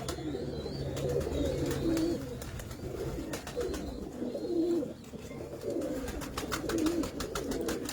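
A flock of rare-breed pigeons gives rolling, throaty coos that rise and fall in short waves, close and continuous, with no voices over them.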